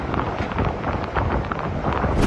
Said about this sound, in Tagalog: iwinawasiwas ng malakas na hangin ng mga puno at nagngangalit ang dagat bago pa maglandfall ang bagyo.